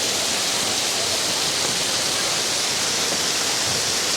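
Waterfall in Cat Cat Village, Sapa, Vietnam, crashing onto rocks on its way down: a steady, loud broadband roar of falling water that holds unchanged throughout, close by, with no voices.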